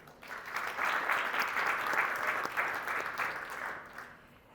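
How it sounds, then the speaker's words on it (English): A summit audience applauds panelists, the clapping swelling quickly, holding an even, full level for a few seconds and then tapering off toward the end. "Please give them a round of applause."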